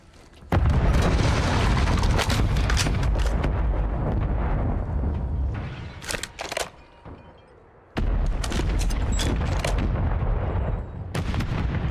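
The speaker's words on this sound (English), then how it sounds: "Mortar strike on me!" Mortar strike explosions in Call of Duty Warzone on the Urzikstan map land as loud, sustained booming blasts with rumbling debris, break off briefly, then resume heavily to the end. No one speaks.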